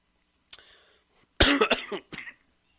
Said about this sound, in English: I had to take a cough break right there